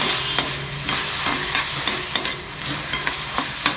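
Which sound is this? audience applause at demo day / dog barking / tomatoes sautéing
tomatoes sautéing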